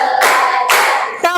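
Hand claps in a classroom clap routine, three bursts of rhythmic group clapping with short gaps between them, fairly close and loud, with no talk over them.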